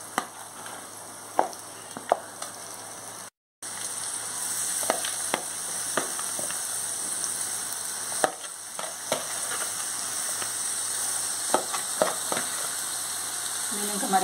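Chicken pieces sizzle and fry in oily masala in a South Indian chicken curry. The steady close crackling continues with occasional spoon clinks and stirring scrapes.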